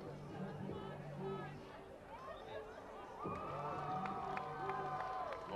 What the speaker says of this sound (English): Tremendous crowd for homecoming.